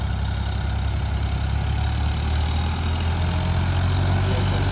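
Sonalika DI 35 tractor diesel engine running steadily at a low, heavy throb, close and continuous with no talk, the tractor pulling a trolley of soil.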